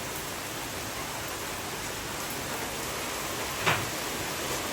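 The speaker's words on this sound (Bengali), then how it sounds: "আমি বাড়ি ঢুকলাম আর এই যে ঝমঝমিয়ে বৃষ্টি নামলো" Heavy rain pours down outside a house as a steady, dense hiss that stays even and close throughout, with one brief louder spot near the end and no speech.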